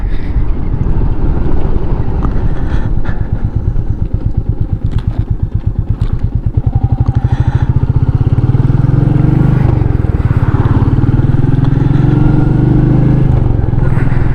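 Royal Enfield Meteor 350 motorcycle on the move, a steady engine drone with a fast low thump and heavy wind rush over the microphone, loud and continuous throughout.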